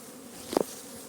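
Honeybees hum around the hives at an apiary in a steady, close drone, with one bee buzzing loudly past for a brief moment midway.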